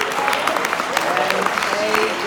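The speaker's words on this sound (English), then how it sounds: "Let's give her a big hand for a round of applause." Applause from an audience at a peace education gathering, dense, fairly loud clapping close to the microphone that keeps an even level from start to finish, with crowd noise mixed in.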